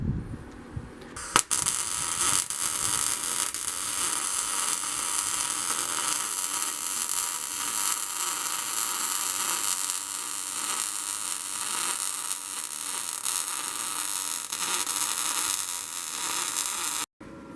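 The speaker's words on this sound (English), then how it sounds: "Now I just need to get it all this tacked up and welded in." Welding on the steel plate of an offset reverse-flow BBQ smoker produces a steady, harsh electric buzz and hiss that holds for a long stretch at close range, cutting off abruptly at the end, with no talk.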